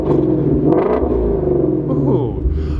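A 2017 Ford Mustang Shelby GT350's flat-crank V8 revs hard close by in sport mode, a deep throaty exhaust rising and falling in a few bursts.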